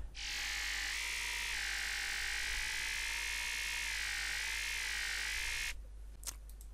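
A sustained, buzzy synth tone for a Zomboy-style growl or monster bass glides smoothly between two notes, loud and steady for nearly six seconds before cutting off, leaving faint clicks.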